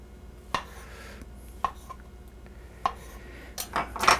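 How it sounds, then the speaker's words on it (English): A knife chops large mushrooms into smaller pieces on a cutting board, giving a handful of sparse, separate knocks with clinks of utensils. The last strokes come faster and louder. No voices. "I'm going to actually chop these into smaller pieces"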